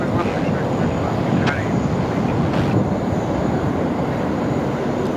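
An airliner landing on runway 16 right at Sydney Airport gives a loud, continuous engine roar that stays close and steady, with brief higher whines, while people talk faintly underneath.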